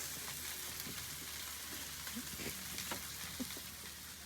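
Chicken sizzles steadily on a Blackstone flat-top griddle outdoors, a continuous crackling hiss at moderate volume with small pops scattered through it and no talking.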